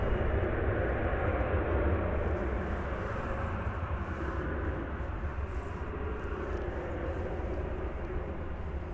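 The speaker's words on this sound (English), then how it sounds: "There's the Dreamliner that's going" Boeing 787 Dreamliner departing DFW Airport, a steady broad jet roar that stays loud and even throughout, distant rumble without distinct peaks, no talk over it.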